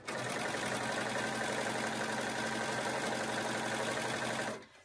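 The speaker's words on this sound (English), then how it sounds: "So I can see that it is in place as I'm sewing it." A sewing machine stitches elastic into pajama shorts in one steady, rapid, close-up run of needle chatter that stops abruptly at the end.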